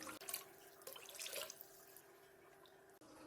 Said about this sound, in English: I'll add in some plain water as well.